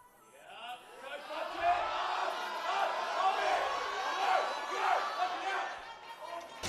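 Crowd noise at a powerlifting meet during a deadlift attempt, a sustained roar of cheering and shouting voices that builds and swells across the whole stretch, with a brief thud partway through.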